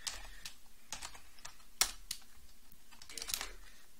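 Quick bursts of clicking keys on a computer keyboard, close and moderately loud, with uneven gaps between keystrokes and no talk.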